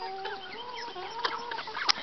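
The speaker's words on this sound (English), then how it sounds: "They're chickens." Several chickens cluck in quick, overlapping bursts, close and fairly soft, with a few sharper squawks near the end and no talk.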